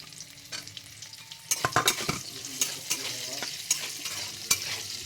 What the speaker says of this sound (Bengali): এবার ক্যাপসিকাম চলে গেল তেলের ভেতরে।